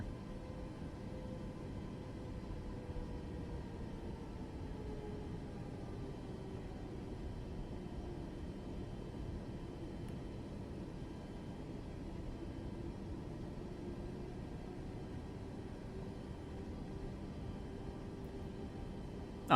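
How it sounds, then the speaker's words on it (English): An Airbus A321 jet taking off in Microsoft Flight Simulator 2024, a steady low engine roar with a slowly falling whine, constant and fairly quiet throughout. "American Airlines 2058 taking off in an A321."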